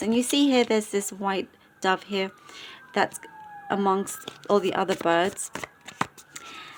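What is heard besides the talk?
sirens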